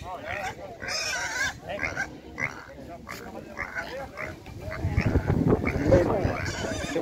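Pigs at a livestock fair in Ibiapina, Ceará, grunt and squeal repeatedly close by, their oinks mixing with people talking and crowd noise that grows louder toward the end.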